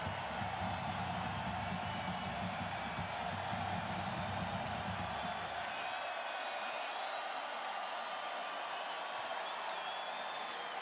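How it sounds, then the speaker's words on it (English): A college football stadium crowd at a Memphis Tigers vs Tulane Green Wave game keeps up a constant roar of cheering, with a deeper rumble that drops away partway through. "the crowd's starting to get into it"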